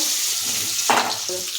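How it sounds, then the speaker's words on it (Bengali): Potatoes fry in hot oil for a fish curry, giving a steady close sizzle with a couple of brief stirring scrapes. "আগে আলুটা ভেজে নেব"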